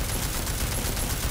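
Rapid, continuous automatic gunfire in Deus Ex: Mankind Divided rattles at a steady pace, loud and close, with no voices over it.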